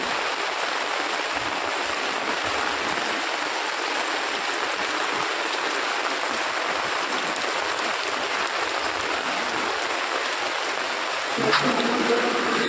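Rain falls steadily on a rainy day as a dense, continuous hiss that stays even throughout, with no voices and a slightly louder patter near the end.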